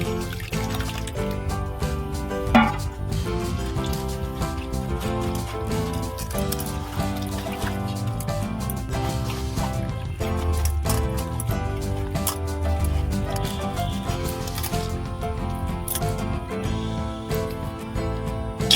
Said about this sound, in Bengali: এবার আমি বেলটা ছেঁকে নেব